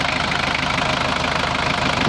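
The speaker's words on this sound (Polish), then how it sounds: "silnik chodzi ładnie miękko nie trzęsie" A Lublin delivery van's engine, around 238,000 km with a replaced timing belt, idles smoothly up close, a steady low rumble with an even, rapid pulsing rhythm and no speech.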